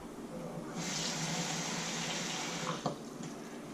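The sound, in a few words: pouring water into cornstarch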